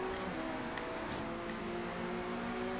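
An Audi-engined car in Forza Horizon 3 droning at steady high revs, a constant tonal whine with slight pitch shifts and no talking.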